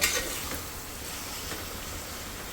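Paneer biryani ingredients frying in a pan, a steady loud sizzle with faint stirring scrapes throughout, no voices.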